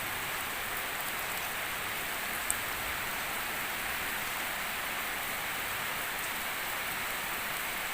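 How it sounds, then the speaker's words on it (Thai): Steady rain falls in a dense, even hiss, close and constant throughout, with no voices and only one brief louder tick standing out. "ฝนตก"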